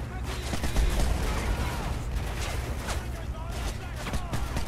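Gunfire from Call of Duty Modern Warfare 3 crackles nonstop, a dense wash of shots and battle noise with no voices over it.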